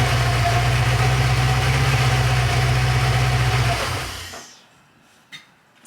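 A Porsche 928 V8 idles steadily with a low, even drone after its auxiliary air regulator is reattached, then the engine note drops away and falls nearly silent, leaving only a couple of faint knocks.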